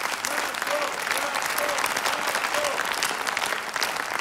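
An audience claps steadily at a televised singing show, dense continuous applause filling the room at close range, with a faint vocal tone in the background.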